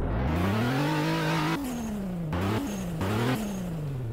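Virtual V6 3.0-litre fuel-injected engine revving in the Automation car-building game, a loud continuous tone climbing then falling with three sharp throttle lifts and blips, with no talk.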